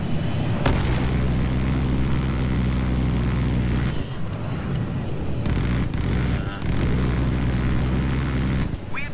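A jet roars past in Battlefield 3 amid dense combat noise, a loud continuous engine rumble with bursts of cannon fire, while someone talks over it.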